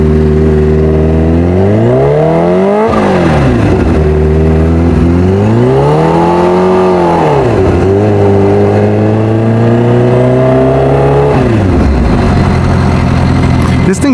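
Kawasaki Ninja H2R, a rare 326 hp supercharged motorcycle, revving very loud and close, its engine note climbing and dropping in several sweeping surges with short pauses between blips.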